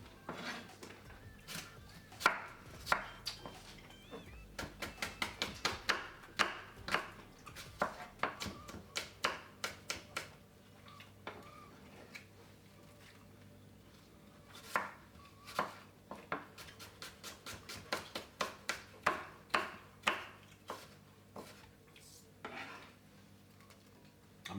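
A knife chops a medium-sized apple on a board in bursts of quick, sharp taps, with pauses and some clinks of dishes, close and fairly quiet.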